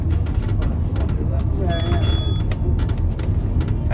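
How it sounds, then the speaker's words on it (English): A stop-request bell on a Stagecoach Enviro400 EV electric bus chimes once, a short bright tone heard over the steady low rumble of the moving bus, with passengers talking nearby. "Can you press the bell, sir?"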